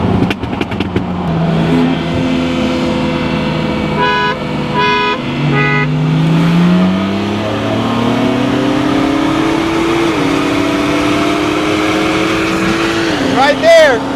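BMW M3 running on E85 fuel accelerating hard in a roll race: a loud, close engine climbs through rising revs with gear shifts, a short horn-like toot early on and voices over the roar.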